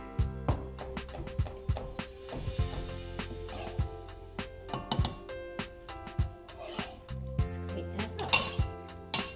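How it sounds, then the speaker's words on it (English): Avocado flesh is scraped and scooped into a bowl for guacamole in a home kitchen, giving a run of clinking utensil-on-bowl taps and scrapes at close range, with no talking. "we just scrape it up and put it in the bowl"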